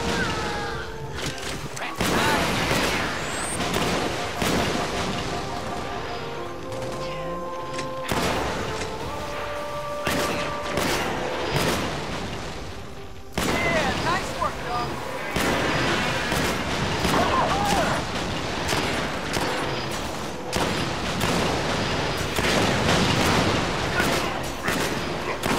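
Gunfire and explosions in the video game Halo: Spartan Assault, repeated shots and heavy booms close and loud across a long battle, with game voices talking over the action.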